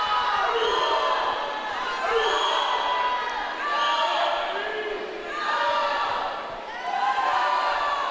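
Teammates cheering swimmers at a loud indoor pool during a high school meet: a crowd of voices shouts in rhythmic swells that rise and fall every couple of seconds, echoing in the hall.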